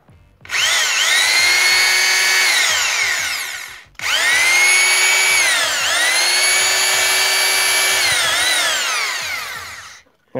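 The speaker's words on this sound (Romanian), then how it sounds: "haideți să începem de la poziția de găurire normală" A Makita HR2470 SDS Plus rotary hammer drilling in normal rotation-only mode, running loud and steady in two long bursts, each winding up and down with a brief pause between them.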